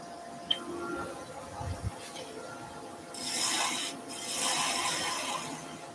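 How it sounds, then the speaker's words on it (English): A sharp spindle gouge cuts a wooden table skittle spinning on a lathe, giving soft rasping, scraping passes in two longer stretches with quiet gaps and a faint background hum. "Let's go with a sharp spindle gouge."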